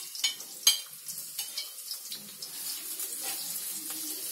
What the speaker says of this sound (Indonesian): Lalu saya mau menumis bawang putih.